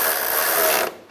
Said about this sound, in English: Now we'll tighten down the bolts.